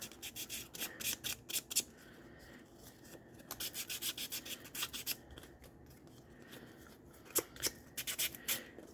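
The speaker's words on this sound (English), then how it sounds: "I'm going to sand the flaps a little bit." A sanding disc rasps across the flaps of a grungy paper folio in quick, close back-and-forth strokes, short scratchy bursts in uneven groups separated by brief pauses, quiet and alone.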